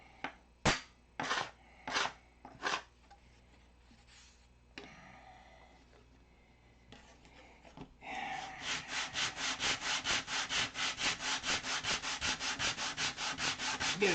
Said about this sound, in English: I've sanded one layer off.